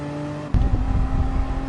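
Race car engine in Gran Turismo Sport, a steady tonal whine that suddenly bursts into a louder, rougher roar as the car accelerates, close and continuous with no talk.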